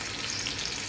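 Fish fries in a pan with garlic cloves, a loud, steady close-up sizzle of hot oil crackling without a break for about a second.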